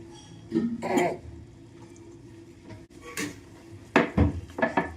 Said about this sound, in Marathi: झाकण आता काढून घेऊया.